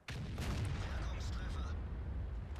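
A tank cannon fires at an E100 in the World of Tanks game while driving an Object 430: one heavy, booming blast with a sustained rumbling roar behind it and faint talk underneath.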